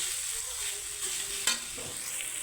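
Radish and soybean curry fries in a pan while being stirred, giving a steady close sizzle with a single sharp spatula scrape partway through.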